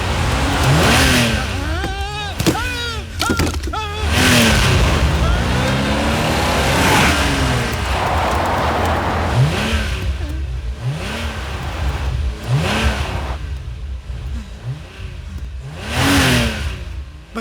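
Car engine revving from the film Tarzan The Wonder Car, repeated rising and falling vroom sweeps of a mid-pitched motor amid other loud film sound and voices, with several sharp bursts.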